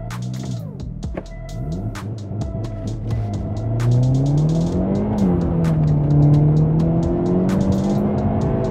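A 2023 Hyundai Elantra N with DCT gearbox launching under launch control, its engine pulling loud and close as the revs climb, dip at shifts and climb again in a steady rising drone.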